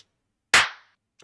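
A single dry, unprocessed drum-machine clap sample, one sharp bright hit with a short decaying tail, sounding alone in near silence.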